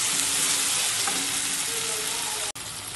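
Tomato pieces fry and stir in a pan for a cauliflower and potato gobi fry, a loud, steady sizzle running throughout with soft scraping mixed in and a brief dropout near the end.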